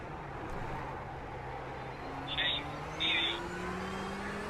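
An LMP prototype race car in multi-class racing at Road Atlanta, its engine a moderate drone whose pitch climbs as it goes by, with a couple of brief high chirps over the steady hum of the own car.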